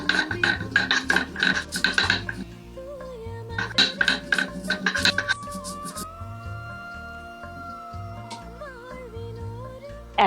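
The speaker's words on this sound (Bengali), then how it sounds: "এবার মশলার জন্য শিলনোড়ায় আদা, জিরে, কাঁচা লঙ্কা মিহি করে বাটবো" Ginger, cumin and green chillies are ground on a stone slab with a stone roller for a cauliflower curry. Loud, rhythmic rasping strokes come in quick bursts, then give way to quieter sustained tones.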